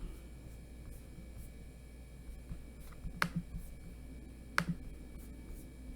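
A computer mouse gives two sharp, distinct clicks about a second and a half apart in a quiet room, with a few faint taps around them and no talk.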